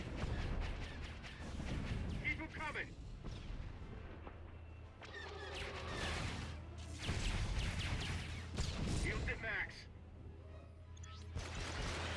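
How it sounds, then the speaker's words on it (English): A volley of missiles fired during space combat in Star Wars: The Old Republic, a rapid series of whooshing launches and booming impacts, loud and continuous with game effects layered throughout. "I'm decided to go ahead and unload my first volley of missiles at the communications array on the bottom"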